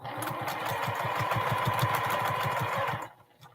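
A sewing machine stitching quilt blocks for twin-size quilts with a quarter-inch seam, running in a fast, even mechanical chatter for about three seconds before stopping abruptly, close and clear with no talk.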